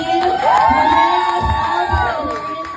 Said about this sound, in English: just give a round of applause to Benil